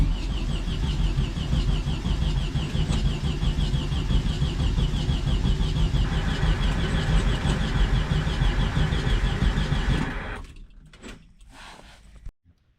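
A 1972 Volkswagen Beetle pickup engine running loudly and steadily at close range for about ten seconds, then cutting out abruptly into quiet with a few faint knocks.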